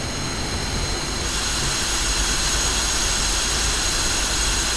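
A jet aircraft's engine in the DCS flight simulator game roars continuously at close range, a loud, even turbine whine and rush that holds steady throughout with no voices over it.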